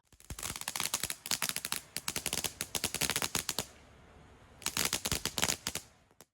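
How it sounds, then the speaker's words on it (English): Rapid strings of sharp firecracker pops crackle in dense bursts, pause briefly, then erupt again near the end; no voices. "now they're going to watch some firecrackers"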